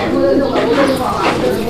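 Pigeons at a farm give low, throaty cooing, loud and close, with a voice talking over the calls.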